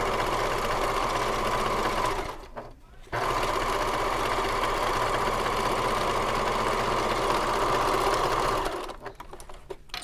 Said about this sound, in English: I'm sewing right sides together